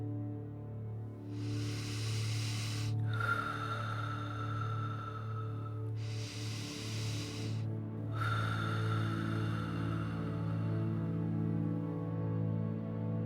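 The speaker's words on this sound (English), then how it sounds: "Let's do some continuous breathing so there's no breaks between breaths" Slow, deep breaths taken one after another during a continuous breathing exercise, two long airy inhale-exhale swells over a soft steady hum, close and gentle with no speech.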